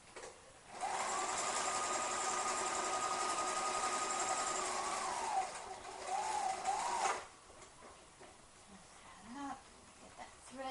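A sewing machine runs steadily for several seconds sewing a quarter-inch seam on bandana fabric, a close, even whirring hum that slows into a few short bursts before it stops and quieter handling noises follow.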